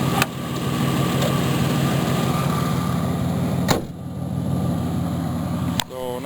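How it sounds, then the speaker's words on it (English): A 1988 Oldsmobile Cutlass Ciera engine runs steadily up close with a failing alternator, giving a constant mechanical drone with a faint thin whine on top and a brief dip partway through. "Definitely tell that alternator is on its way out."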